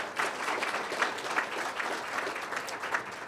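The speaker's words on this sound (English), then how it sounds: "Give them a round of applause again." A seated crowd at a 2015 county budget address gives sponsors a round of applause, a steady wash of many hands clapping, moderately distant and even, with no talk over it.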